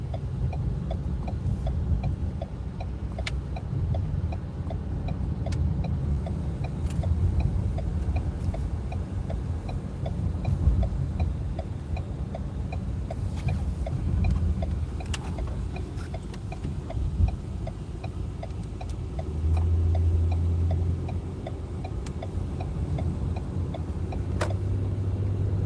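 Steady low rumble of a car cabin while driving, with a constant regular ticking running throughout and occasional faint knocks, no talking.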